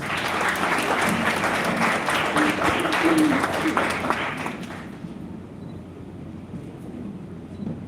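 Crowd applauding at a senior high school graduation ceremony, a dense sustained patter of clapping for several seconds that fades out into quiet room tone.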